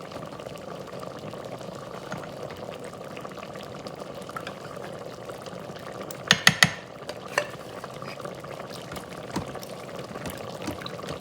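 Organic Thai coconut milk is poured and stirred into soup in an Instant Pot, with a soft continuous bubbling and stirring bed and a brief cluster of clinks and scrapes midway.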